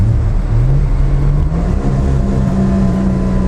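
The exhaust of a 1961 Comet, probably holed, rumbles loudly close by, its low engine note climbing slightly as revs build, with a rough, uneven edge.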